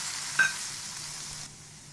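Winter vegetables frying in a pan for Chinese-style egg soup noodles, giving a steady close sizzle with a brief stirring scrape near the start, then easing slightly quieter toward the end.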